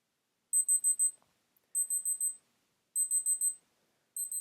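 A Casio AE-1300WH digital watch's countdown timer alarm rings in bright, high electronic beeps, grouped in quick bursts of four repeating at a steady interval, close and clear against silence.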